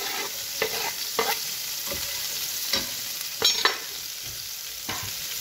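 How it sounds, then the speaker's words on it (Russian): Onion and garlic fry in a pan for an eggplant imam bayildi dish, giving a steady close sizzle broken by several brief scraping stirs of the spoon. "С луком жарю чеснок тоже."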